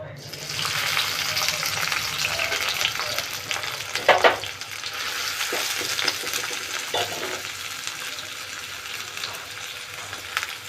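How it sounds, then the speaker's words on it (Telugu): Chopped onions frying in hot oil, a loud continuous sizzle close by with occasional stirring clinks and scrapes of the pan, faint talk underneath at times. "ఆయిల్ వేడైందండి, ఉల్లిపాయలు వేసుకుందాము"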